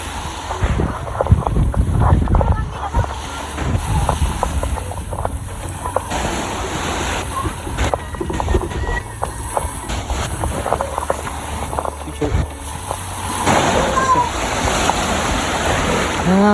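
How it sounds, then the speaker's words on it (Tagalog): Rough ocean surf at Boracay churns and crashes continuously with heavy wind buffeting the microphone, loud and close throughout. "So, yung alon, malakas din."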